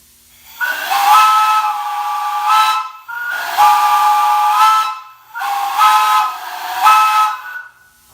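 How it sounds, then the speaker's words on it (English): A Long Island Rail Road MP54 electric train's air whistle sounds in four long, loud blasts, each a steady multi-tone chord separated by short pauses. "All units were equipped with an air whistle."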